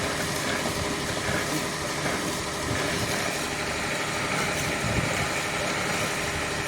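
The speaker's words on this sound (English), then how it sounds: "Engine is running," A newly bought boat's engine idles steadily, running smoothly with water discharging, a continuous low rumble and broadband noise throughout with no distinct talk.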